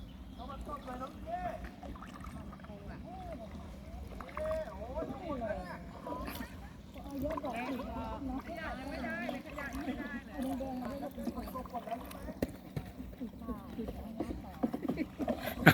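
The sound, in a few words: tourists paddling rowboats on water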